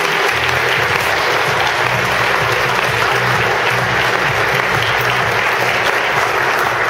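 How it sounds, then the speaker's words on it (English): An audience at a regional business meeting breaks into loud, dense applause, a sustained roar of many hands clapping steadily throughout with no pauses. "go ahead and stand up and give yourselves a round of applause"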